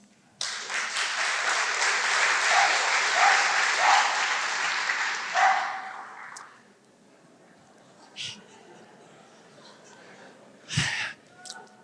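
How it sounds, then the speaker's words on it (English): An audience at a community residents' association meeting in Pasadena breaks into loud, sustained clapping for several seconds, then it fades out, leaving a few quiet breaths and small noises. "I think you should all give yourself applause."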